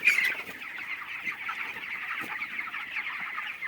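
Chickens cluck steadily in a crowded winter poultry farm shed, many birds overlapping in a continuous moderate chatter with no talk.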